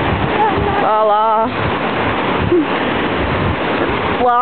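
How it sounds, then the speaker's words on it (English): Ocean waves wash steadily on Pismo Beach, a continuous loud broadband roar of surf near the shoreline, with a person talking and humming over it at moments. "Well, here's the ocean."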